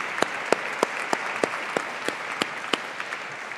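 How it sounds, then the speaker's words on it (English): Audience applause honoring board members at a school foundation education celebration, steady dense clapping with sharper individual claps standing out in a regular pattern, close and sustained. "let's give them a round of applause for the job they do every day"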